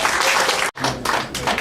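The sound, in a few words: audience applause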